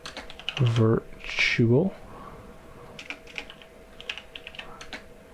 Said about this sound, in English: we can type in New Brunswick